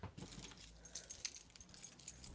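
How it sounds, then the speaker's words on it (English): A big stack of keys on a ring jangles and clinks close by in quick, irregular metallic bursts, with no one speaking. "I got a big stack of keys."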